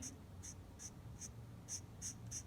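A Chameleon marker pen's nib end colouring on paper, a few short, soft scratchy strokes at an uneven, deliberate pace, close and faint over a quiet room hum.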